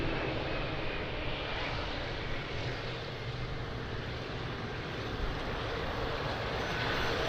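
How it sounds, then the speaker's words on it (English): A LATAM Boeing 777 airliner takes off at Lisbon Airport on a windy day, its jet engines a broad, continuous roar heard from a distance with wind noise, steady throughout. "And another big boy 777, Latam. Flying to São Paulo, Brazil, let's go."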